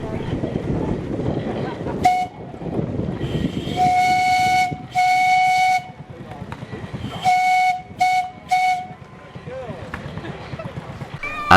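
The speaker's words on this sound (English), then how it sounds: "This traction engine offers guests to blow its whistle." A steam traction engine whistle blows in several shrill blasts, first two long ones then shorter bursts, loud and close, with mechanical chuffing and people talking around it, at a steam festival.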